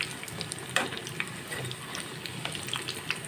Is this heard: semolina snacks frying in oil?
yes